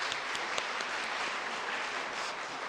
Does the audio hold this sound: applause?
yes